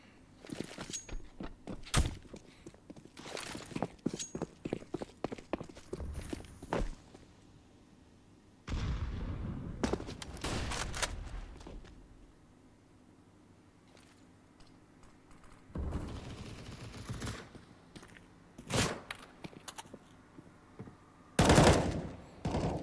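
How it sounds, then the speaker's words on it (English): Pistol gunfire in a CS:GO 2v2 match, heard as rapid bursts of sharp shots and clicks, with denser volleys early on and scattered single shots later, all without speech. "Cold and Olof still on those pistols"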